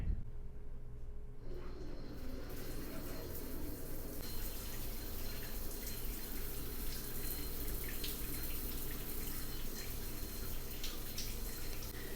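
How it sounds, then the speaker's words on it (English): Steady rush of water pouring from a rain shower head in a bathroom, a continuous hiss that starts after a brief moment and runs on evenly without pause. "They have a rain shower head attachment, which is very fancy, but we need to test the water."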